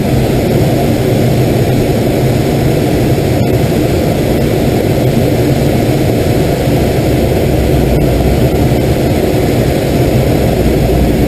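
An airplane clears the runway with a loud, steady engine roar that holds close and constant throughout, with no voices over it.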